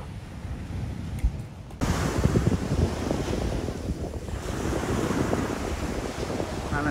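Sea waves wash ashore beside a seaside campsite at Armenistis on Sithonia, a steady rushing surf heavily mixed with wind buffeting the microphone, growing louder after a brief quieter start.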